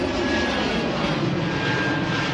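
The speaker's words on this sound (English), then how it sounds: "Plane," A fixed-wing airplane passes overhead above a tomato garden, its steady, loud engine drone filling the whole stretch without pause or talk.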